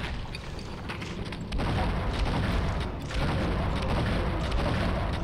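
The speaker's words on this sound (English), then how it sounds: "Three shots from the shotgun with rage." Heavy booming shotgun blasts fire in the video game Painkiller amid dense, roaring combat noise, loud and continuous with a couple of stronger surges.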